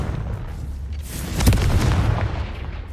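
A Confringo fire spell detonates in Hogwarts Legacy, a single loud, close boom with a sharp crackling burst that rolls off over a couple of seconds, with no talking.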